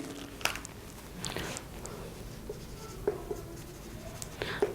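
Soft, close scratching strokes of writing during a mathematics lecture on Banach spaces in functional analysis, faint and intermittent over a quiet room, with no speech.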